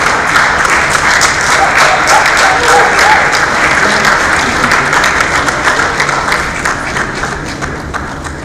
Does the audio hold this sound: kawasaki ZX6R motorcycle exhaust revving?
no